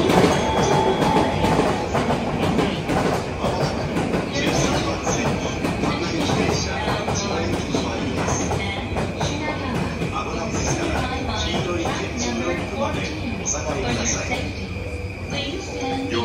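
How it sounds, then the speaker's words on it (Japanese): A Chuo-Sobu line local train pulls into a crowded Shinjuku station platform amid a steady loud rumble of wheels and platform bustle, with station announcements and crowd voices running over it throughout. "13番線、14番線とも電車が到着です。"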